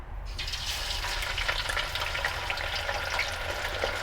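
Buffalo wings dropped into hot oil send up a loud, steady hiss and crackle of deep frying that holds evenly for several seconds, with a low rumble beneath; no talking.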